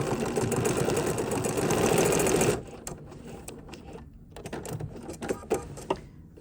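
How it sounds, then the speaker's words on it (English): Sewing machine stitching a small bar tack at a seam intersection, a loud steady whirring run that stops abruptly, followed by quiet clicks and faint handling sounds. "I'm going to do a little bar tack right there in that intersection, making sure we have some slack on it though"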